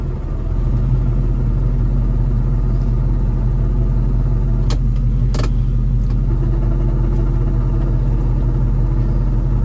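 Steady engine drone from a 1970 Chevrolet Nova on the road, a constant low rumble throughout with no voices.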